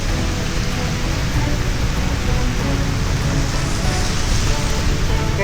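Heavy rain pours steadily during a bike ride in stormy weather, a loud, dense, continuous hiss and patter with no break and no voices.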